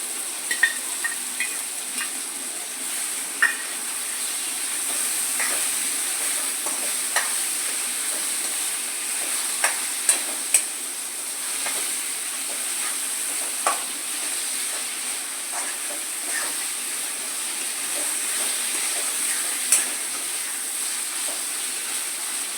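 A wet paste of ginger, garlic, chili, coriander and dried coconut sizzles steadily in a pan for mutton curry, a constant hiss broken by occasional clicks and scrapes of stirring.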